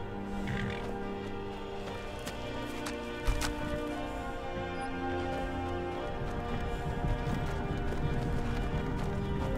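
Horse hooves clop steadily while pulling a caravan in Skyrim, a continuous rhythmic trot under game music and ambience, with one sharp knock partway through.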